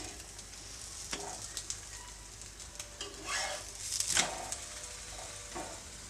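A stuffed potato aloo paratha frying on a pan just after being flipped gives off a soft, steady sizzle, with light scraping and stirring clicks near the middle and end, close and fairly quiet, no voices.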